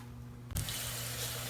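Tap water suddenly gushes into a kitchen sink while a blender jar is rinsed, a loud steady splashing rush that continues after the abrupt start.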